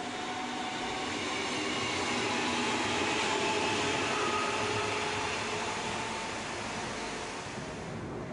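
A DB class 424 S-Bahn electric multiple unit in Hannover rumbles past with a steady broadband roar of wheels and motors, loud and even throughout with no voices.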